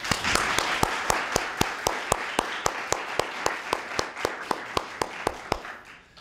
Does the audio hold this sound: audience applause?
yes